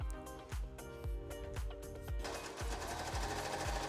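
A serger sewing machine stitches two layers of fabric together, its rapid mechanical whir running in short repeated bursts that merge into a steady, fast hum partway through, close and fairly quiet.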